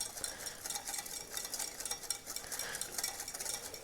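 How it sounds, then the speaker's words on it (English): A mixture whisked steadily by hand in a bowl, a fast, even run of soft scraping strokes that repeats without a break, fairly quiet and with no voices. "And keep whisking."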